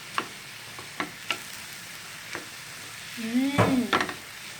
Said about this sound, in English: Okay, now we mix it.